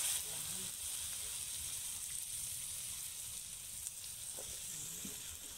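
Chinese cabbage stems sizzle steadily in a hot stir-fry pan, a continuous close frying hiss with no talking over it.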